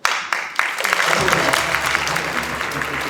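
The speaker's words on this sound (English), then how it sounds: "So applause to you guys." An audience bursts into loud, sustained applause right after a few isolated claps, the clapping continuing steadily with a low murmur underneath.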